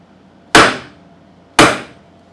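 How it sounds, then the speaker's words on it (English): Two sharp metal hammer strikes on a 7/16 1/4-inch drive socket, used as a drift to pound a part out of a locked-up Ariens lawn mower, spaced about a second apart, each loud and close with a short ringing decay. "I'm just gonna pound this out here."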